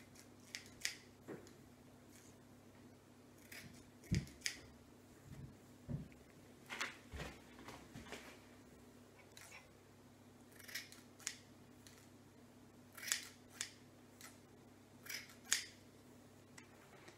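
Kitchen scissors trim short hair, a series of quiet, crisp snips at irregular intervals, heard close up against a faint low hum.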